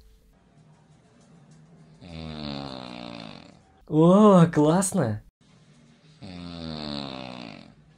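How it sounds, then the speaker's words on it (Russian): A woman snores loudly in a long, rasping stretch between two softer breathy snores, with a person briefly exclaiming in between. "Женщины тоже храпят."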